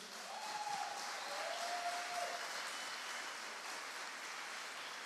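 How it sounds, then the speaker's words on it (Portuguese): A church congregation at a Sunday morning service applauds, producing a soft, steady, rain-like patter of clapping heard from some distance, with a brief faint tone near the start. "Pode aplaudir o Senhor."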